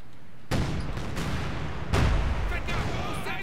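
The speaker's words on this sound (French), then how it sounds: "L'ennemi tire." Gunfire in the World War II strategy game Company of Heroes 2, heavy booming reports at moderate distance, two strong blasts with rolling sustained fire between them.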